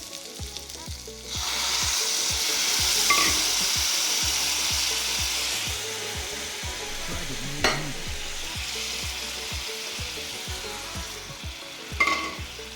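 Rice for pulao frying in a pan gives a loud, steady sizzle throughout, with scraping stirring strokes and a few sharper knocks, and no voices.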